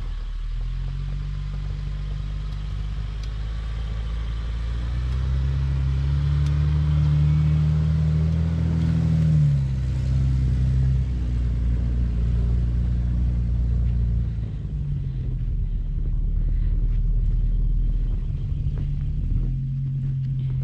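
A car driving on a road in Wyoming, captured from a GoPro mount on the vehicle: steady engine and road rumble throughout, swelling louder midway, with rattling clatter and no talk.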